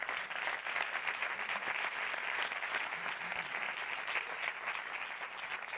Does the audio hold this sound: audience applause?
yes